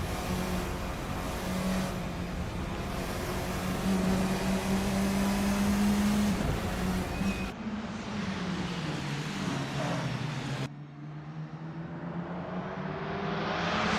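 Formula 4 race car engines in Assetto Corsa at Townsville hold a sustained buzzing whine that rises and falls with shifts and braking, the engine sound fading lower near the end, with no voices.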